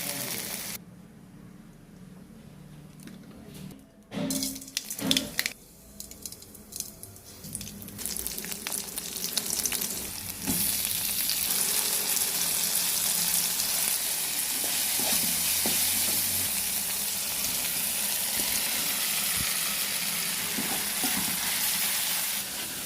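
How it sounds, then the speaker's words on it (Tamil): Okra sautés in a pan for a ladies finger kuzhambu, giving a steady, fairly loud sizzling hiss that builds after a few stirring knocks and then holds continuously to the end. "நல்லா வதங்கிடுச்சு"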